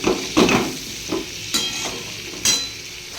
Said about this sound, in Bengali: আলু আর ডাঁটাগুলো আগে ভালো করে কষিয়ে নেব।